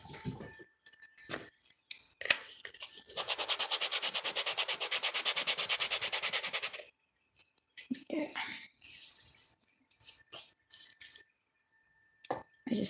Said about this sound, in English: I just sanded it a little bit just to make sure that the back side is not sharp.